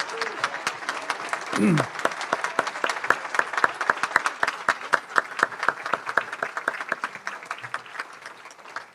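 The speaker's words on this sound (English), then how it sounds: "Let's give them all a really big round of applause." A Rotary Club of Madison audience breaks into a big round of applause for community volunteers. The dense, steady clapping runs throughout at close range, and a brief voice is heard near the start.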